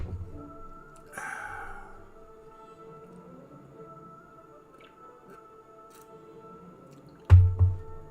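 Water drips or trickles into a glass in a quiet room, a few soft, sparse drops over a low hum, ending in a sudden louder splash and squish.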